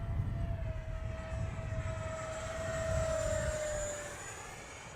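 An HK Flycat RC model airplane flies overhead, its steady motor whine sustained and fairly loud, swelling slightly as it passes, over low wind rumble outdoors.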